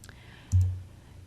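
A single quiet mouse click in NX CAD drafting software, a short sharp tap standing alone against a faint background hum.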